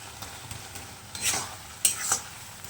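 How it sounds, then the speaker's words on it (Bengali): A curry of prawn, taro, pumpkin and Malabar spinach is stirred in a pan: a few quick scraping strokes of the spoon over a soft, low sizzle, close by. "চিনি দেওয়ার পর একটু নাড়াঘাটা করে নেবো"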